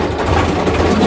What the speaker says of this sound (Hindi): ट्रैक्टर जा रहल की करबै ओकरा